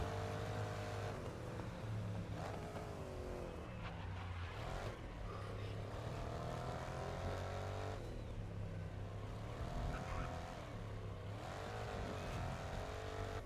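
A racing car's engine drones steadily in Grid Legends, holding a continuous mid-level hum with gear shifts and engine pitch rising and falling across the stretch, and a voice faintly in the background.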